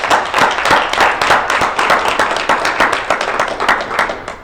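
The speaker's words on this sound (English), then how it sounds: "So let's give a round of applause for these gentlemen." Audience applauding a group of gentlemen at a motivational event, a fairly small crowd clapping in a loose, uneven patter with distinct individual claps, loud and close.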